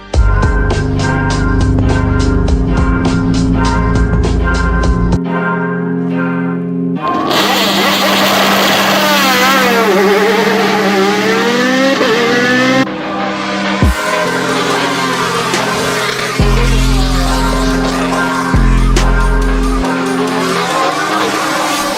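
An Alfa Romeo 155 V6 Ti DTM race car engine revs hard and loud, its pitch climbing and falling through gear changes with sharp cuts between bursts, close and sustained.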